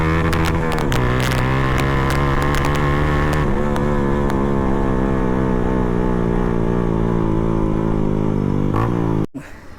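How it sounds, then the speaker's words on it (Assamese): A KTM Duke 250 BS6 motorcycle fitted with an Akrapovic full exhaust system runs close up with a loud, steady, throbbing engine drone that rises briefly before cutting off abruptly near the end. "akrapovic এক্সজষ্ট আছে সাউণ্ডটো এবাৰ শুনক"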